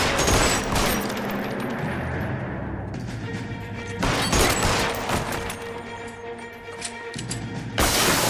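Gunfire in the video game L.A. Noire: loud, dense bursts of shots with crashing impacts rolling through the whole stretch, fading briefly before a sharp new volley near the end, with no talk over it.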